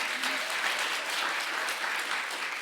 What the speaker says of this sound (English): Now, while you're clapping